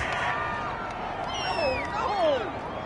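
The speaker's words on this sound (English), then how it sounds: "this crowd does not like that call" A stadium crowd in a PS4 American football game gives a steady, loud roar of disapproval after a roughing-the-passer penalty, with rising and falling whistles and jeers through the noise.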